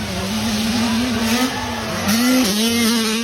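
Motocross motorcycles rev near a dirt track at a race event, one engine whining loudly with the pitch rising and dipping as the throttle is blipped, close and continuous.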